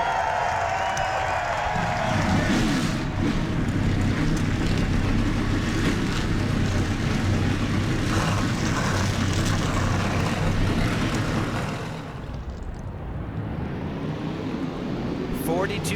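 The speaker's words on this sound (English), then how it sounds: "42 cars fire up." Field of 42 stock car engines roaring to life together at Texas Motor Speedway for the Samsung RadioShack 500 in the NASCAR Racing 2003 sim game, a dense continuous rumble that fills the scene, then a sudden drop as revs settle.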